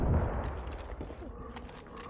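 Rapid, dense gunfire rattles in Far Cry 5 with sustained booming blasts. Faint voices can be heard underneath.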